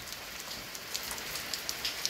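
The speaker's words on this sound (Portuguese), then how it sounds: "É sinal que a chuvinha vai aumentar." Rain falls steadily on surfaces during a storm in the Bahia sertão, a dense, even hiss with scattered faint droplet taps throughout, fairly quiet and with no voices.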